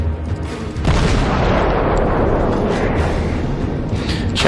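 Warship main guns fire in the naval battle game World of Warships, a loud booming blast followed by a heavy rumbling roar that sustains for several seconds.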